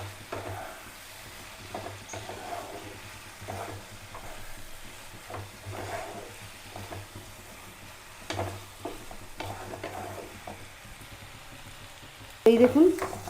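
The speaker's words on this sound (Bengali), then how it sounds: "এরমভাবেই আপনার টমেটোগুলোকে পুরো ম্যাশ করে দেবে এর সাথে" Tomato masala frying in a pan for South Indian tomato rice, with a steady sizzle under repeated scraping and mashing strokes of a spoon, and a few louder clatters near the end.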